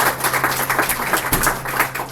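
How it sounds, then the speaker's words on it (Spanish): A church congregation gives a short burst of applause, moderately loud, uneven clapping with individual claps distinguishable, heard alone with a faint low hum beneath. "Denle un aplauso al Señor, iglesia."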